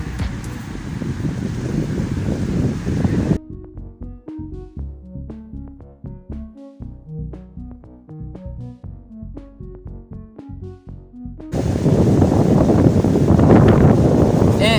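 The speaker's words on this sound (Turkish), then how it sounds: "Şu anda biliyorum Bayağı bir rüzgar esiyor" Strong wind roars and buffets the microphone, drops away for a stretch while a tonal melody plays, then returns just as loud.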